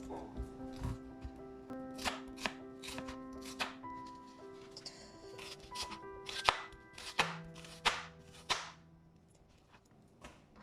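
A knife chops through a white onion on a board, sounding as a run of quick, sharp, close taps in uneven bursts over a quiet background.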